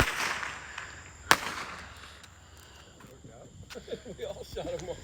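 Backyard July 4th fireworks: a hiss of a launching firework, then one sharp loud crack, followed by fainter crackles while people talk nearby.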